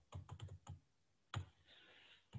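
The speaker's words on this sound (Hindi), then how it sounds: "जब भी हम एंटर की प्रेस करते हैं" Keys on a computer keyboard are pressed, including the Enter key: a quick run of faint keystroke clicks, a pause, then a firmer single press and one more tap, all very quiet and close.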